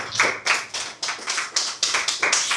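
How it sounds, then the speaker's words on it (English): A small audience at a business talk claps for a company CEO walking up to speak. The claps are close and distinct, in loose rhythmic bursts that swell and fade across the room, with no talking. "Please give me a round of applause as he comes up."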